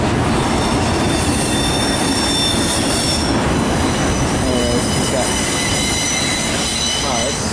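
Freight train of empty auto rack cars rolling past up close, a loud continuous rumble of wheels on rail with high metallic squeals throughout.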